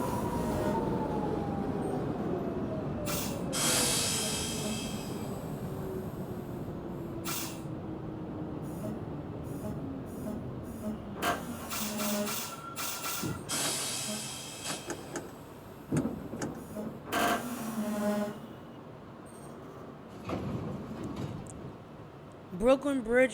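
NYC subway 6 train running between stations, a steady rumble with a falling motor whine, then screeching wheels, air brake hisses and door chimes as it slows, with an announcement voice over it.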